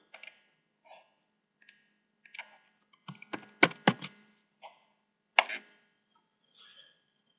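Computer mouse clicks and key taps at a desk during bone density analysis software work: sparse, quiet, sharp clicks scattered irregularly, with a brief cluster of louder taps in the middle.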